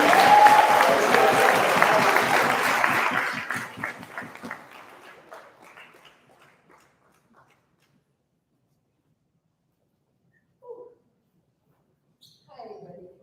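Crowd applause and cheering at an NYC life celebration for Dr. Mutulu Shakur. It begins loud and dense, then thins and fades out over several seconds, leaving near silence with a couple of brief faint sounds later.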